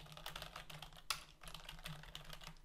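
Fast, steady typing on a computer keyboard during a GameMaker coding session, close and fairly quiet, with one sharper key clack partway through and a low hum underneath.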